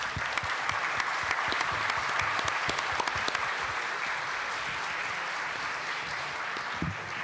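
A large audience claps steadily for the full stretch, dense sustained applause with a few sharper individual claps standing out, no voices.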